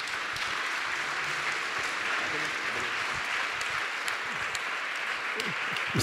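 An audience at an evening forum on sexual consent claps steadily in a hall, a dense, even wash of applause with some speech-like sounds mixed in throughout.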